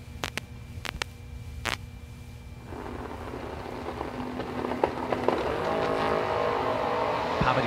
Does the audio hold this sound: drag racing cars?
yes